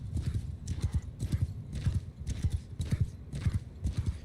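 Horses in a strategy video game gallop in a fast, even clip-clop rhythm of hoofbeats, with a neigh rising among the repeated thuds, loud and close.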